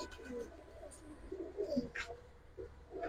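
Giribaz pigeons kept for sale coo in soft, low, repeated phrases close by, with a few faint higher chirps and people talking in the background.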